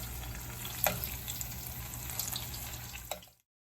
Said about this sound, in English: After this batch of beans has gone into the oil, they should be lightly stirred with a slotted spoon to break them apart.